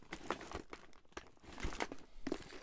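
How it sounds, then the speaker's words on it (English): Paper rustles and crinkles while stamps are leafed through, coming as several close, irregular bursts of crackling with short pauses between them. "I'm just doing a lot of rustling."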